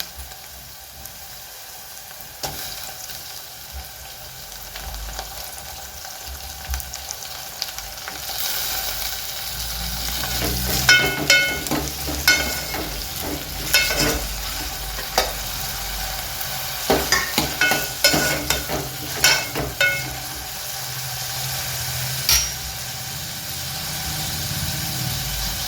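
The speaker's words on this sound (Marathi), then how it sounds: "आता मी टोमॅटो टाकून घेते।" Tomatoes tumble into browned onions in a pan for a spicy black field bean usal, setting off a loud, steady sizzle punctuated by scraping stir strokes and clanks, growing busier midway and continuing alone without talk.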